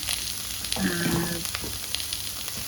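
Two large onions and two green chilies sautéing in a pan, a steady close frying sizzle with a short stirring scrape partway through, fairly quiet and without speech.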